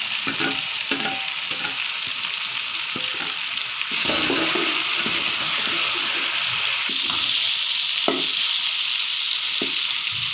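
Goat brain (magaz) frying in masala in a home kitchen pan, a steady close sizzle with repeated scraping and stirring of a spoon, loud and continuous, with no talking.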